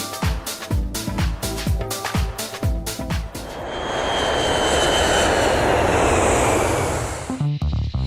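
ATR 72-500 turboprop engines turning Hamilton propellers drone loudly and up close, first with a rhythmic pulsing throb and then swelling into a continuous powerful roar before settling back toward the throbbing beat.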